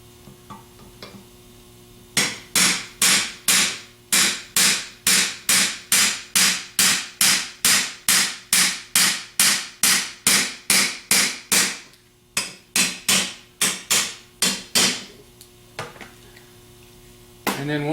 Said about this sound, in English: you can use that to tap the rear plate back down on, or you can just take a 15/16 deep well